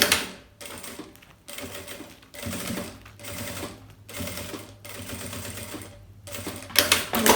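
A sewing machine stitches the gusset of a bag, running in close, loud bursts of rapid mechanical whirring separated by short pauses.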